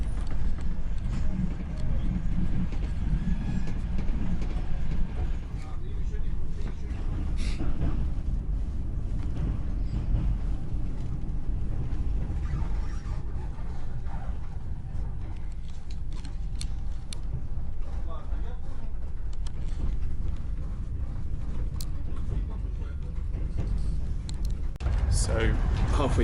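Inside a passenger train travelling from Kyiv to Lviv, a steady, loud low rumble of running gear and carriage noise continues throughout with no break.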